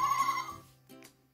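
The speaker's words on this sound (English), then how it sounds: "That was a sheep sound." Electronic sheep bleat from a children's toy farm, a short tinny synthesized tone lasting under a second, close and fairly quiet with no talking.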